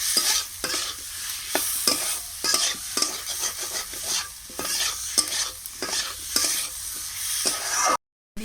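Potatoes and spices stir-fried in a pan with a little water, a continuous hiss broken by repeated scraping strokes of the spatula, close and loud, with a brief cut near the end.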